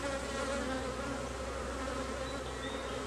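Angry honeybees swarm and buzz loudly in a dense, continuous hum right at an opened hive during a split, with no talk over the sound.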